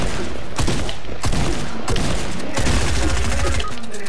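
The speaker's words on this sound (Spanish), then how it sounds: "Sí, pero su combo me está disparando." Rapid bursts of gunfire in the Fortnite video game, several loud volleys in quick succession with short gaps, close and dense over the game's background noise.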